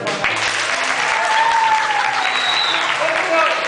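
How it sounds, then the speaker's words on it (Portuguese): An audience at a staged play claps in a dense, steady round of applause that fills the whole stretch, with a few voices and whistles rising above it. "Uma salva de palmas"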